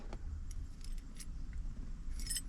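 Keys jangle inside a 1968 Chrysler Imperial 440, a few bright metallic clinks and rattles in short bursts, close by over a low interior rumble.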